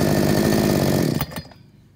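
An easy-start chainsaw runs at a loud, close, rough idle, then abruptly cuts out and leaves near silence.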